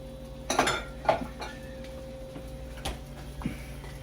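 Utensils clink and scrape in a pan while ingredients are mixed with a splash of wine, a few sharp knocks spaced out against quiet background.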